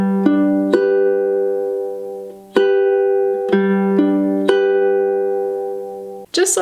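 A ukulele plays a fingerpicked pattern for a song, with plucked chords ringing out in a steady, moderate rhythm. It sounds close and clear and is played solo, ending with a brief noise.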